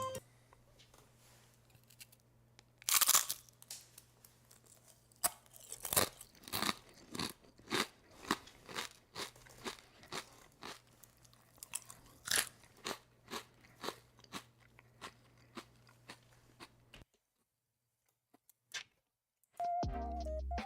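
Sharp, crisp crunches from biting and chewing a thin crepe with apple slices, a rapid irregular run of close, loud snaps and crackles that stop abruptly before a short silence.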